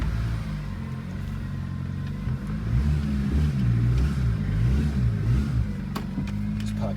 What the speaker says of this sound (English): Hilux is back on the road.